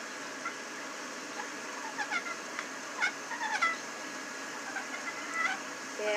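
A slate turkey call worked with a striker produces a turkey purr: short, soft, raspy chirps and purring strokes in scattered clusters, fairly quiet against a low background hiss.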